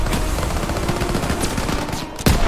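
Sniper rifle fire rings out in the WWII shooter Call of Duty: WWII, a dense run of close, loud shots and cracks that continues throughout with a sharper report near the end.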